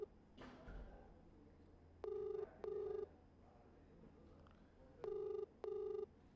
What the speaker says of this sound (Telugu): ఎస్ఐ నెంబర్ రింగ్ అవుతుంది, ఆయన ఆన్సర్ చేయడం లేదు